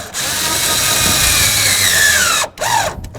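Power tool snugging taillight mounting nuts on a 2009-2013 Mazda 3, a loud steady whirring run that rises slightly in pitch and ends in a brief final burst.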